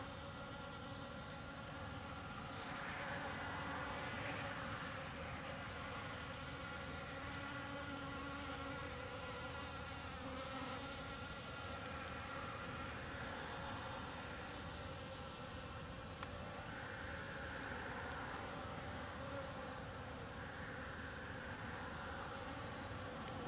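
Insects buzz steadily around flying saucer cactus flowers outdoors, a continuous close hum of bees, wasps and flies lasting throughout with no talking.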